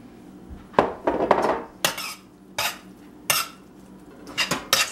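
A spoon scrapes and clinks against a bowl while vegetable broth is mixed into vegan, gluten-free bread stuffing, giving several short, fairly close scraping strokes separated by brief pauses.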